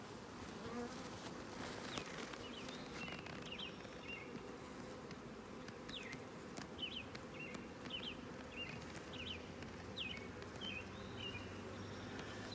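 A swarm of honey bees hums in a steady, low buzzing drone that fills the whole stretch, with individual bees whizzing past close by and faint bird chirps in the background.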